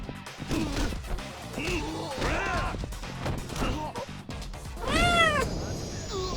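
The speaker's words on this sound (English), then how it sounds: "Murabi, cat sound effect indeed." Several cartoonish cat meows play as a stream alert sound effect, mixed with crashing and thwacking game audio and a person talking, ending on a loud, drawn-out meow.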